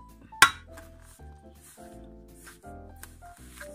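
Butter is being stirred into sweet bread dough in a bowl, with a sharp clink of utensil against the bowl followed by soft scraping and squishing thuds.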